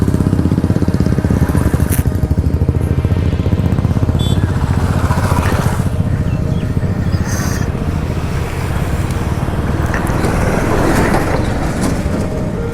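A Royal Enfield Himalayan BS6 motorcycle on a Republic Day group ride from Chakda to Bibhutibhushan, its engine giving a steady, loud drone blended with constant wind roar for the whole stretch.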